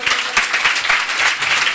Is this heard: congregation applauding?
yes